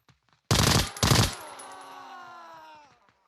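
A suppressed SIG MCX Virtus rifle fires two sharp, close shots in quick succession, each followed by a fading metallic ring and echo that trails off over a couple of seconds.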